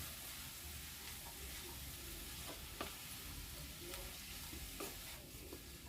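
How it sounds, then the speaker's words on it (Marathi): Jackfruit vegetable cooking on low flame in a pan as it is mixed, giving a faint, steady hiss of sizzling with a few soft scrapes and taps of a spoon and no talk. "मिक्स करूया आपण भाजी"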